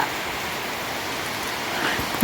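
Fresh night rain falls steadily in windy weather, a soft continuous hiss that stays even and unbroken for a couple of seconds.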